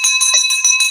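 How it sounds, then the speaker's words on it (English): A school teacher's handbell rings rapidly and loudly, bright metallic clangs repeating several times a second with long sustained overtones, close and alone. "Get ready for the school teacher bell yet again, Michael."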